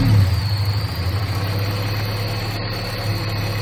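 A car engine with about 134,000 miles, freshly refitted with injectors, runs at a steady low idle after a brief start, with a constant close rumbling drone.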